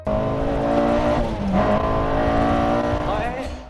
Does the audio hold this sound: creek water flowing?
no